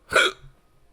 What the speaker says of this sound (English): What the fuck are these hiccups? I don't get hiccups like this.